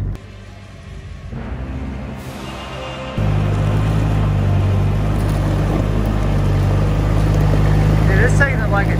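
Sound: Toyota Hilux engine pulling in four low, first gear

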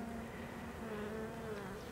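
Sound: honey bees on a hive frame

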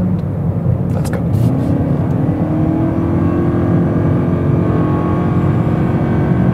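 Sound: Toyota Corolla accelerating in sport mode with CVT transmission

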